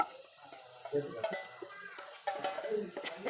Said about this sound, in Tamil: இறாலை போட்டு நல்லா மிக்ஸ் பண்ணுறோம்.